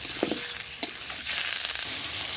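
Chicken frying in a pan for a spicy red chicken curry, a loud continuous hiss and sizzle up close with a few quick scraping stirs, no voices.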